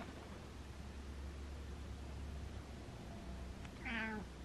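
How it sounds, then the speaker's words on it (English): A single short meow near the end, close and fairly clear, after several seconds of steady low background hiss. "There he goes. Meow."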